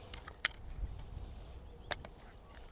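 Metallic clicks and rattles as a safety pin is pulled and the latch of a metal fire extinguisher cage is opened in a Toyota Tundra: a few sharp close clinks, spaced irregularly, over quiet background.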